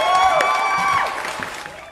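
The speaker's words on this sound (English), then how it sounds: "Let's give a huge round of applause to Stephen Higginbotham" Studio audience at a talk show giving a round of applause to a welcomed guest, a bright burst of clapping that is loud at first and then gradually thins out.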